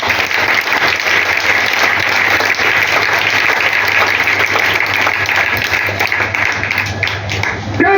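A church congregation claps and cheers in sustained, dense applause that fills the whole stretch at steady volume, acclaiming the Lord during a consecration service.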